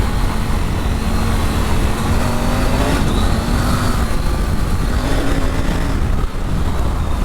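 A Triumph Tiger 900 Rally Pro motorcycle ridden on dirt fire roads: a loud, steady engine drone with a rising and falling tone, mixed with rushing wind and road noise. It runs without a break and no one speaks.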